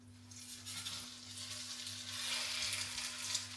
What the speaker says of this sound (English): Got to sizzle it straight from the back.